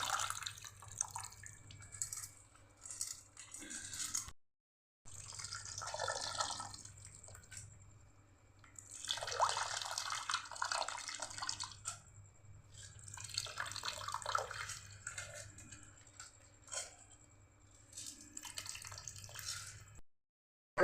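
Tamarind water strained by hand, producing a series of dripping and trickling bursts separated by short pauses, close and fairly soft over a low steady hum.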